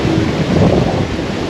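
Sea swell and strong wind of 25 to 30 knots while sailing at night around 8 knots, a dense continuous rush of waves and wind buffeting the microphone, no voices.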